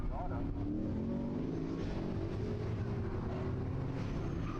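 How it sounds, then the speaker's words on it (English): An LS-powered convertible Mazda Miata runs an autocross course at a motorsports park, its V8 engine droning loud and steady throughout under a busy mix of track noise and voices. "Turn 14 Sport Class, Pete Romkowski, LS powered convertible Miata"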